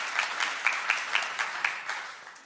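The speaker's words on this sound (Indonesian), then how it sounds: "Tepuk tangan yang meriah bagi kita." A church congregation claps together in a lively, steady burst of applause, the individual claps blending into a bright, moderately distant patter that holds evenly throughout.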